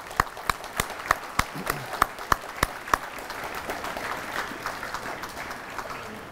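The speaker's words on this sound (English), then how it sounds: "Give yourselves a round of applause." Middle school students at a Veteran's Day salute clapping, a string of about ten sharp, evenly spaced loud claps over a softer background of scattered applause that continues after them.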